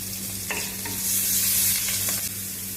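Rice tipped into a pan of frying garlic for sinangag, with a steady close sizzle and a few stirring scrapes, swelling louder midway and no talking.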